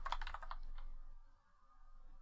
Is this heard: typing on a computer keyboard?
yes